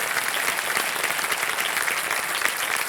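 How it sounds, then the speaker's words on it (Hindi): Studio audience on a quiz show set bursting into steady, dense applause, loud and close with many hands clapping evenly throughout. "ऑलराइट भाई साहब, एक बार फिर तालियों के साथ आपका हम स्वागत करते हैं।"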